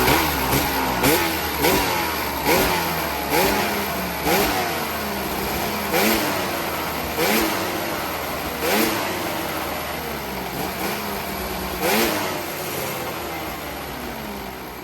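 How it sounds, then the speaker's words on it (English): A junkyard-sourced, previously broken snowmobile with its clutches just refitted starts up and revs repeatedly in loud, rhythmic surges over a steady engine rumble, close by and with no talking. "So let's fire this thing up and see how those clutches work."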